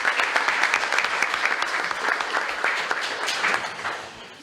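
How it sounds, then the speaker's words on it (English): Applause at a city commission meeting honoring a 4x100 relay runner: steady clapping from a roomful of people for several seconds, close and fairly loud, fading slightly at the end. "we'll give him a round of applause"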